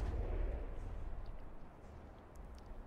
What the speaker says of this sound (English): Looks like this volley is going for this ship over here.